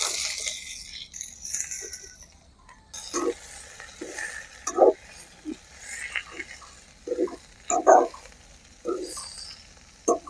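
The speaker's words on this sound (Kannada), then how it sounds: "ಇನ್ನು ನಾವು ಕಟ್ ಮಾಡಿದ ತೊಂಡೆಕಾಯಿನ ಸೇರಿಸುವ." Chopped ivy gourd is stirred in a frying pan with curry leaves for a traditional palya, giving intermittent spoon scrapes and clinks over a faint, low sizzle.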